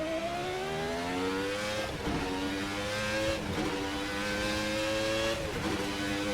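A Formula RSS 1990 V10 race car in Assetto Corsa screams at high revs, with rising engine pitch broken by several quick gear changes, loud and continuous with no voices.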